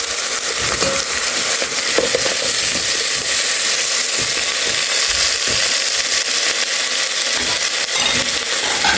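Beef bones sizzling and frying with cooked onions in a pot, a steady broadband hiss with occasional soft pops and clinks, close and continuous throughout, no voices.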